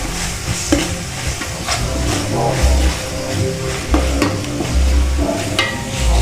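Ginger garlic paste frying in a pan with steady, loud sizzling and crackling, plus repeated scraping as it is stirred, close up and without any talk.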